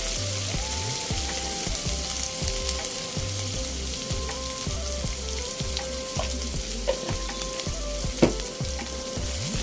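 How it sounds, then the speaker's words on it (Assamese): Masala spice paste with turmeric frying in oil until the oil separates, for an Assamese home-cooked meal: a loud, steady close sizzle with occasional spatters and stirring scrapes, alone without talk, over a low background hum. "মছলাখিনি এতিয়া মই ধুনীয়াকৈ তেল এৰালৈকে ভাজি ল'ম।"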